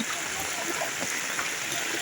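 Floodwater after rain rushes steadily and loudly over a broken concrete road in a constant broadband wash, like a fast flow pouring across a hard surface, with no break throughout.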